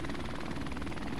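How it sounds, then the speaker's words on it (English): An enemy helicopter in Call of Duty: Modern Warfare Remastered on the Shipment map gives a loud, close, rapid rotor thump with a continuous engine roar through a short burst. "Oh god, man, their helicopter!"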